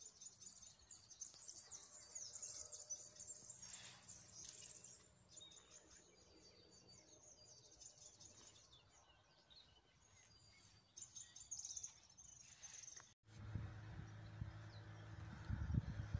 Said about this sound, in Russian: Пение птичек.